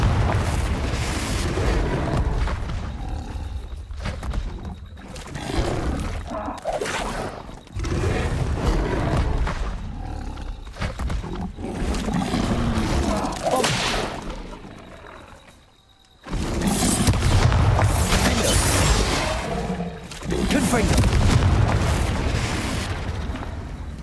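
Bombarda and Confringo explosion spells go off repeatedly in Hogwarts Legacy, a series of loud, booming blasts with roaring, rumbling tails, separated by brief lulls across a long stretch of combat.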